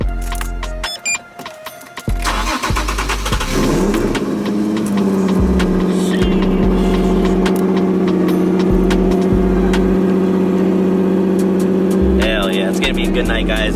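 A turbocharged Nissan 350Z cold-starts after a few seconds of quiet clatter and cranking, then settles into a loud, steady, close-up idle that holds to the end.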